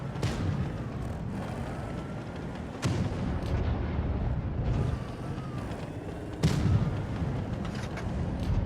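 Tank cannon shots in World of Tanks Blitz, sounding as heavy booming reports over a constant rumbling battle bed, with two louder shots standing out.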